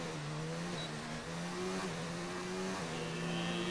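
Race car engines in a Formula 3 racing video game at Belgium, a steady high whine of several cars at full throttle crossing the line, with subtle pitch shifts as they pass, continuous and fairly loud with no talk.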